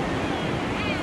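Pacific Ocean surf washes onto a beach near Brisbane as a continuous loud roar mixed with wind buffeting the microphone.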